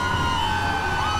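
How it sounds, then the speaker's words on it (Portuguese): Police car sirens wail in GTA 5 as more patrol cars arrive, a steady rising and falling electronic tone carried over low engine rumble, fairly loud and continuous. "E mais viatura chegando."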